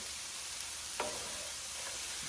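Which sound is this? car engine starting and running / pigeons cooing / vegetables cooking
vegetables cooking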